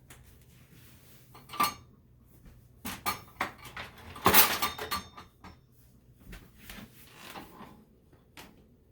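Metal spatulas scrape and clink against a frying pan while lifting a chocolate cake out, a few scattered knocks and scrapes with one louder clatter in the middle, close and fairly quiet.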